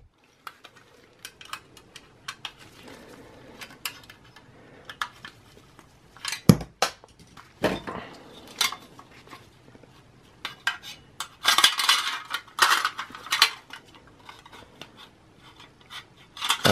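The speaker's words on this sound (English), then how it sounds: "So I'm gonna connect the screws here for the solid state drive." Small metal screws clink and rattle on a hard surface while a solid state drive is fitted into a Lenovo H520S desktop, giving scattered close taps and scrapes with busier clatter toward the end.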